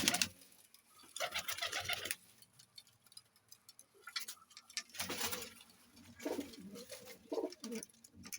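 Pigeons coo and flutter in bursts across the recording, fairly close, with quieter gaps between the cooing spells.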